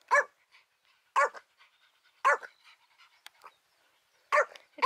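A dog at a backyard dog pool barks sharply four times at roughly one-second intervals, close and loud, with brief pants and faint rustling between barks.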